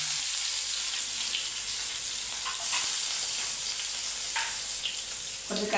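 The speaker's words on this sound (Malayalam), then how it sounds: "കടുവ ഒന്ന് പൊട്ടണം കടുവ പൊട്ടുന്നുണ്ട്" Mustard seeds splutter in hot oil in a pan, a continuous close sizzle broken by scattered crackling pops.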